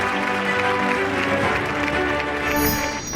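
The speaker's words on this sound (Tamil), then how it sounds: "உங்களின் அரங்கம் நிறைந்த கைத்தட்டலை" At the News 7 Tamil Ezhumin Awards 2023 ceremony in Tiruvannamalai, a hall audience claps steadily and loudly throughout, with music or tones sounding beneath the applause.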